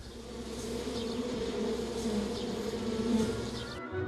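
A dense, steady hum of honeybees, loud and continuous, droning without pause as if from inside a hive.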